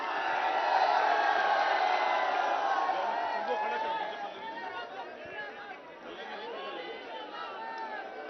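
A large crowd at an open-air political election rally in Sirathu chatters and murmurs as a continuous, dense roar, louder at first and then settling to a lower, steady hubbub.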